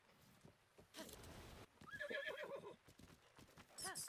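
A horse whinnies and neighs in The Legend of Zelda: Breath of the Wild, with hoof clip-clop and game sounds mixed in, fairly loud across a few seconds.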